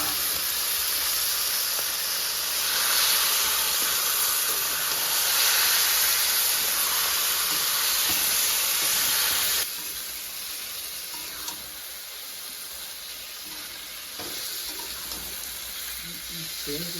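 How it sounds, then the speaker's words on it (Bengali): Bay leaf, cardamom and cloves crackle in hot oil in a village kitchen for duck curry, a steady loud sizzling hiss that drops abruptly partway through to a quieter simmer. "তেলে কি কি যাচ্ছে মা? যাচ্ছে তেজপাতা, এলাচ, লবঙ্গ, বাবা ফাটছে তো?"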